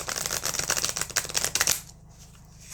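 A slippery tarot card deck is riffle-shuffled close up in a quick rapid flutter of cards lasting under two seconds, then falls quiet.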